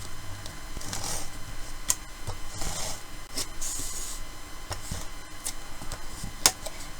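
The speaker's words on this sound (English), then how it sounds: "So I'm just going to bring in my tape runner." A tape runner lays adhesive onto a heat-embossed card in a quiet room, giving soft, faint clicks and brief rasping strokes at irregular intervals.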